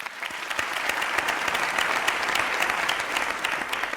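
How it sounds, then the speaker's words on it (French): An audience at a stand-up comedy show applauds, a dense, lively wash of many hands clapping that holds steady for several seconds, with no talking. "Par applaudissement, quand même."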